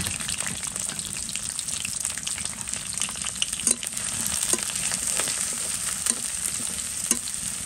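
Chopped onion and chili frying in a pan with cinnamon, cardamom and cloves for a chicken curry, a dense, close sizzle running throughout, broken by a few light stirring clicks.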